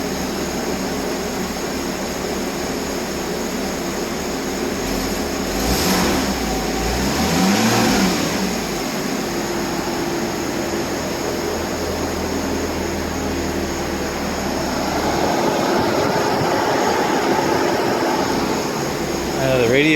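A flood-damaged Porsche 981 engine idles at its first startup, a loud continuous drone with a brief swell of revs partway through, accompanied by a steady high whine.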